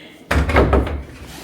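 A dryer vent being pushed back into place in a renovated resort villa, a single sharp hollow thunk followed by a short rattling clatter that fades, close and fairly loud.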